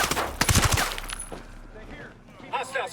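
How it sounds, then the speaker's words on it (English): Gunfire in the Ghost Recon Breakpoint video game: a loud burst of rapid shots near the start, then quieter sporadic cracks, with voices heard later. "I hear gunshots."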